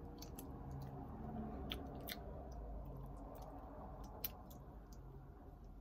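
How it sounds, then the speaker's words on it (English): Close-up chewing of tough off-brand licorice candy, a steady wet mastication with scattered sharp clicks and crunchy bites, continuous for several seconds with no talking. "Tastes like I'm chewing on tire."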